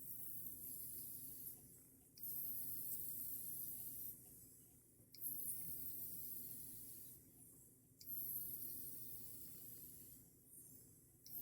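Short bursts from a spray can or airbrush coat the arms of a quarter-scale Wolverine figure, four hissing passes separated by brief pauses, close and alone.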